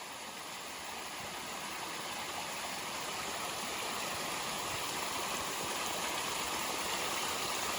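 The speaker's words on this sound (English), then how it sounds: "It's a pretty little waterfall, little stream." A small mountain waterfall and stream on Bluff Mountain rush with a steady, even roar of falling water, continuous and close with no voices.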